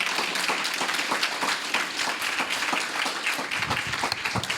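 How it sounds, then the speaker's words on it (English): Steady applause from a crowd, many hands clapping densely and evenly throughout with no pause, fairly loud and close. "Give them a great round of applause."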